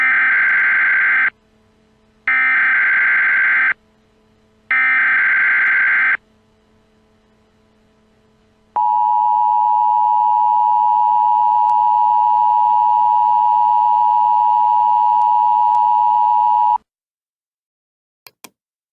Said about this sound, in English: let's set the emergency alert system